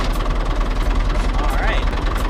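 Car engine running after a battery terminal connection was tightened: a steady, close, low rumbling idle with rhythmic vibration throughout, with a faint brief whine partway through.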